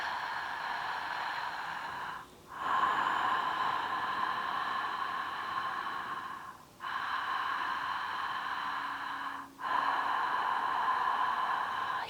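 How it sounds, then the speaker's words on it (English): Slow, deliberate breathing through a narrowed throat during a breathwork exercise, heard as long hissing, rasping breaths up close, each lasting several seconds with brief pauses between them. "to feel how the throat will get smaller while you are creating this sound when you breathe"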